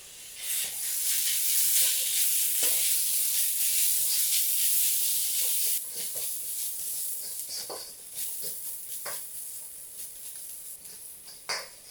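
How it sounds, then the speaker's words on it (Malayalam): Onion, crushed garlic, ginger and green chili sauté in a pan for a Kerala-style chicken roast, giving a steady loud hiss that eases after a few seconds, with a few scraping stirs and no voices. "ഇതിലോട്ട് 1 കുടം വെളുത്തുള്ളി ചതച്ചത്, 1 വലിയ കഷ്ണം ഇഞ്ചി ചതച്ചത് ചേർത്ത് കൊടുക്കണം. കൂടെ 1 പച്ചമുളക് ചെറുതായി അരിഞ്ഞ് ചേർത്ത് കൊടുത്ത് വഴറ്റിയെടുക്കാം."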